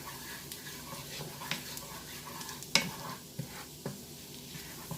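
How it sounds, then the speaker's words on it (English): Garlic cooking down gently in butter over low heat, a soft steady sizzle with occasional utensil stirs and one sharp clink, close and unbroken by talk. "It's just a matter of flavoring that butter. Cooking down the garlic slightly."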